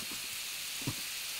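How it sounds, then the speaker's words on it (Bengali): Marinated meat, seasoned with chili powder and soy sauce, fries in a little oil in a frying pan, giving a soft, steady sizzle with a faint clink near the end. "এখন আমি একটা ফ্রাই প্যানে সামান্য তেল দিয়ে আমি"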